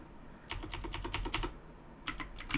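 Fingers typing on a computer keyboard in a quiet room, two bursts of rapid clicking keystrokes with a short pause between them, close and clear.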